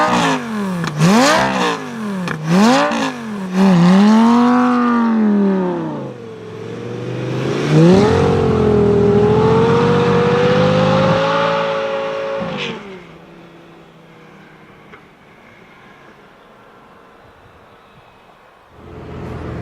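A Lamborghini engine revs hard in a series of sharp throttle blips, then holds a long rising, roaring pull while driving through a snowstorm in Summit County, Utah, before dropping to a quieter cruise.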